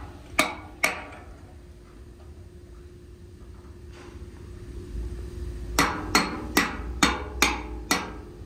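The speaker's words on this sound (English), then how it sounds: "Usually it's a couple smashes with a hammer." Hammer smashing on metal while refitting a manway cover on a paper-making steam can: two sharp ringing strikes, a pause over a steady industrial hum, then a quick run of six evenly spaced clanging blows.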